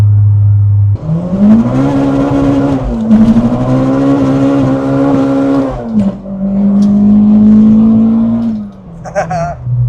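A Honda Civic engine revs loudly up through its gears, the pitch climbing, dipping at each shift, then settling into a steady drone at cruising speed.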